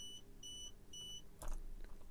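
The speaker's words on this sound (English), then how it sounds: "Right, enough beeping for one day." Three evenly spaced electronic beeps from an ESP32 board with an SSD1306 OLED display, clear and tonal, followed by a brief clatter of handling noise.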